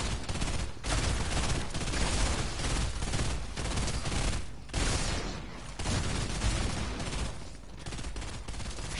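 An explosive slime launcher in Fortnite fires in rapid, loud bursts, a dense and nearly continuous barrage of blasts with only brief pauses between volleys and no talking over it.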